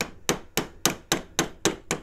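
A mallet taps a metal bezel around a cabochon stone in eight crisp, evenly spaced strikes, close and clean with short decay and quiet gaps between hits.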